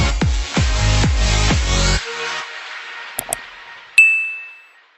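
A bright notification-bell ding rings out once and fades away slowly, following a few rhythmic low thumps and a couple of short clicks before a brief silence.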